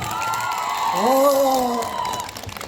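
An audience at a university concert cheers and whoops with some clapping, while a loud voice shouts over the crowd in a rising and falling call, then the noise settles back.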